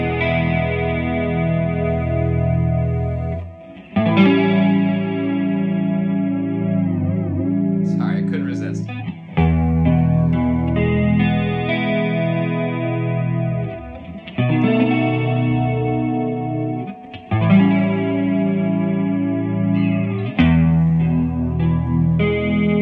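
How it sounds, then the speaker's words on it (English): Electric guitar with a P90 pickup strummed through a Tomsline Twister flanger pedal, sustained chords in several loud phrases with sweeping, whooshing flange swirl and brief gaps between strums. "I'm just going to play some chords so you can hear the lovely flanging as it flanges."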